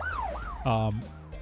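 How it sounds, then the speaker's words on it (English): Police sirens wail in the distance during a city getaway scene in a tabletop role-playing game, with one rising and falling tone followed by a brief steadier blare, moderately loud and alone. "you do hear police sirens in the distance as you get away"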